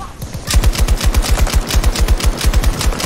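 Rapid automatic gunfire in the video game Battlefield 2042, a loud, steady stream of sharp shots repeating evenly for several seconds after a brief quiet start.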